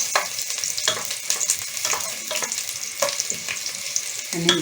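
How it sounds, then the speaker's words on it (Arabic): Garlic sautéing in a pan while lentil soup is being prepared, a steady close sizzle with occasional stirring scrapes and crackles throughout. "التومه برضو خدت التشويحه زي البصل."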